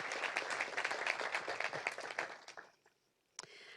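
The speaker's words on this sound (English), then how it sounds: "along with Susan Bennett, let's continue giving them a round of applause in thanking them for their contribution here" Audience applause closes a live medical grand rounds presentation, a quiet, brisk patter of clapping that fades out after about two and a half seconds, followed by a short pause and a single sharp knock.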